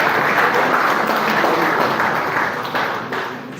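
An audience at a media briefing bursts into loud, sustained applause, a thick roar of many clapping hands that stays full for several seconds before easing slightly at the end.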